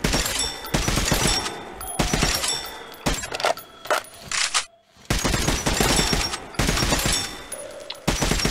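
Gunfire at a shooting range in the video game Metro: Last Light, loud, rapid bursts of shots and fusillades repeating through the clip with brief pauses, one near-silent gap midway, no talking.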